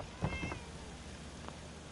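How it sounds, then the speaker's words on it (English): A faint cat meow from the game Fallout 4 sounds early, followed by a second, softer mew, over a low background hiss. "That's a cat!"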